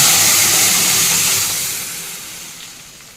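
Cooked dal and drumsticks dropped into a hot pan give a loud, bright hissing sizzle that starts strong and steadily fades over a few seconds, heard alone without talk.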